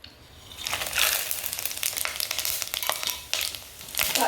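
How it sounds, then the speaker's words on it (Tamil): Spices crackle and sizzle loudly as they are tempered in hot oil, with bursts of popping and spitting that rise and fall close by. "தேவையான அளவுக்கு எண்ணெய் ஊற்றிக்குங்க இந்த தாளிக்கிறேன் பாருங்கள்"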